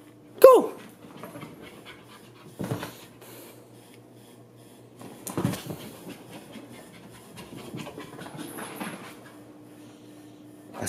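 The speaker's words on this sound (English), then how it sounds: "I swear this dog is crazy." Excited pet dog panting in short irregular bursts close by, with a few louder thumps and rustles between quieter stretches of breathing.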